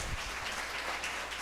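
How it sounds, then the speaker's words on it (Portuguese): Church congregation applauding during a worship service, a brief burst of steady clapping filling the room with no voices on top. "Pode aplaudir."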